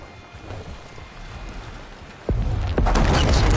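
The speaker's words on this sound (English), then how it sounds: "Time to drop that bomb." A bomb goes off in the video game Horizon, a loud deep boom that hits suddenly and then rolls on as a sustained heavy rumble with a second burst right after, over steady ambient game noise.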